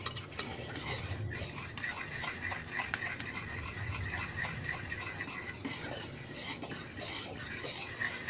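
A spoon keeps stirring milk, butter and sugar in a pot for no-bake oatmeal cookies, a continuous close scraping and rubbing with a faint simmering hiss underneath.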